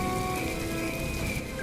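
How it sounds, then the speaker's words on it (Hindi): Heavy rain pours down in a dense, steady hiss, constant and close with no pauses. "भारी बारिश में भागता हुआ"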